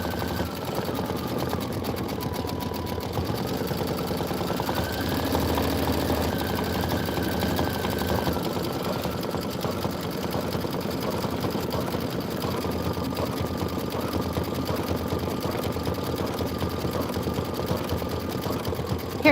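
An embroidery machine stitches deer antlers, a steady, continuous mechanical hum with rapid needle chatter that holds at an even level throughout, with slight pitch shifts as the stitching moves.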